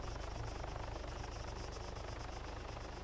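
A small helicopter in the Arma 3 video game drones steadily with a fast, even rotor chop and engine whine, holding a constant, fairly distant level throughout with no voices.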